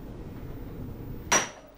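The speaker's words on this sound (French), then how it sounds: "il faut lui donner une frappe régulière et jamais taper 2 fois au même endroit" A goldsmith's planishing hammer strikes metal once, a single sharp bright ring near the end that decays over a low steady background hum.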